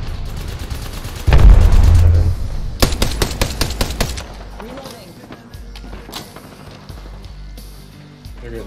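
Rapid bursts of Apex Legends gunfire crackle in a dense volley lasting a few seconds, loud and close, then fade into quieter scattered game sounds under ongoing squad chatter.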